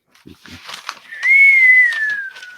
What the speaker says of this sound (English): the snow has deadened everything except the sound of the wind whistling past you